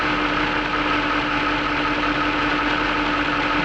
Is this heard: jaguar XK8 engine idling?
yes